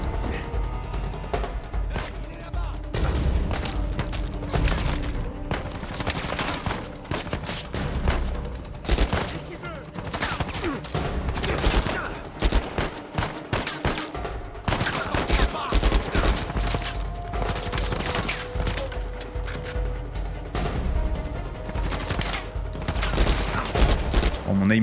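Dense sniper and automatic gunfire from the Uncharted 4 video game, with rapid bursts and heavy booms running nearly continuously and loudly throughout, mixed with game effects and a voice talking at times.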